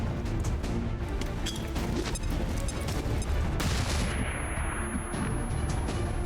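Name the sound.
flashbang grenade going off in video game XCOM 2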